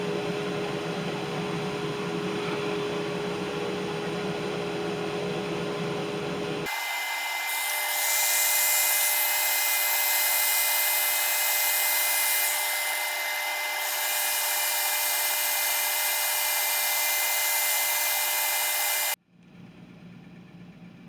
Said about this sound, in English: Dust collector is still winding down, turning it off.